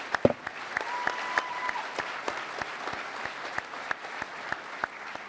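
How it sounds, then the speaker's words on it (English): An audience applauds in tribute to the late George Romero, with scattered, distinct handclaps building into a moderate, steady round of clapping heard from within the crowd. "I think maybe we should give a round of applause for the passing of George Romero"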